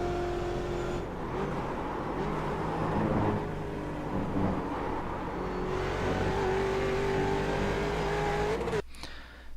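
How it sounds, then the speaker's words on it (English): A Mustang race car in the iRacing sim at Watkins Glen holds full throttle through a chicane, its engine a steady high drone with a rising pitch that cuts off abruptly near the end. "I hit the throttle again and stay full throttle through the 2nd chicane."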